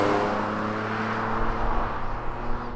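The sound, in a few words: Mitsubishi 3000GT accelerating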